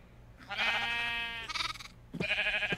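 Sheep in a farming video game bleat twice: a long wavering cry, then a shorter one after a brief pause, clear and close with no talking.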